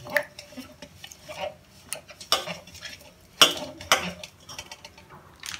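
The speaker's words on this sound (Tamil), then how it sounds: "இந்த மாதிரி உப்பு சர்க்கரை எல்லாத்தையும் நல்லா கலந்துட்டு" Salt and sugar being stirred into water for parotta dough: a spoon clinking and scraping against a bowl in uneven, repeated strokes, close and fairly quiet, with several sharper taps and no talking.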